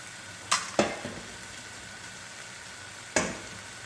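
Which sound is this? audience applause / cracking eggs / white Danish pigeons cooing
cracking eggs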